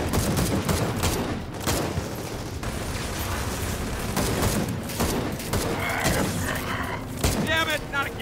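Gunfire in the video game Gears of War 4, aimed at an exposed core: a dense, continuous spray of shots and game effects throughout, mixed under steady talking.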